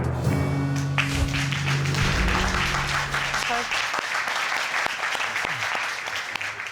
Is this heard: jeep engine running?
no